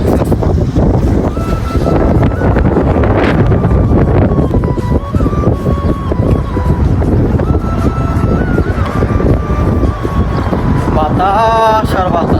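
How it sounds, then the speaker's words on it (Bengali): Strong wind buffets outdoors in a loud, continuous roar that rumbles and gusts without letup for the whole stretch, with a faint engine-like drone in the background. "বাতাস আর বাতাস।"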